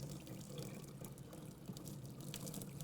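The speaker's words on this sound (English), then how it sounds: "we're gonna strain them, get the hot water out of the way." Hot water is strained off a pot of boiled eggs in a sink, a faint running and splashing pour with a few drips.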